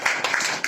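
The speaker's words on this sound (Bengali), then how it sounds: "শেফার জন্য জোরে একটা করতালি দাও।" Children clapping together in a classroom, a steady burst of many hands close by, with a few louder claps standing out.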